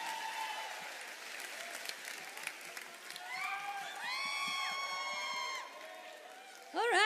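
Audience applause at an unplugged concert as a guest singer is invited on stage, a steady crowd clapping bed under a voice and musical tones throughout.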